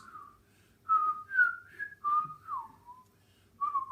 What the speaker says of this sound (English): Then midnight comes, the whistling begins.